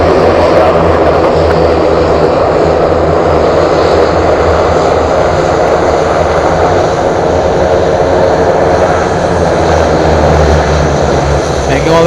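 A Beechcraft 1900 twin turboprop at Anchorage airport runs its engines loudly and steadily nearby, a constant broadband roar with a low propeller drone, while a voice talks over it.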